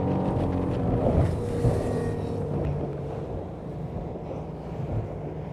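A Della Pasqua DC Seven Sport motor boat runs at speed, around 40 knots, slicing through waves. A steady engine roar mixes with wind buffeting and rushing water, loud and close, with no voices.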